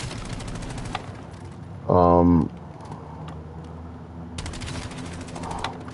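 Rapid burst of automatic gunfire at a training dummy in COD Black Ops 7, one short loud rattling volley of about half a second amid game background sound, with someone talking before and after it.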